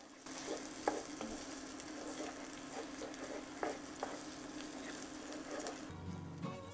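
Chorizo and onions fry in a pan with a steady close sizzle, punctuated by several stirring scrapes and taps, before a brief clatter at the end; no one speaks.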